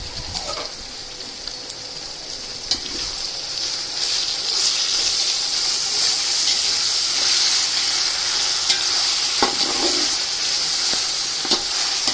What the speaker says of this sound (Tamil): இப்போ நம்ம புதினா, கொத்தமல்லி நல்லா வதங்கிடுச்சு. நம்ம எண்ணெயும் நல்லா பிரிஞ்சு வந்துருச்சு.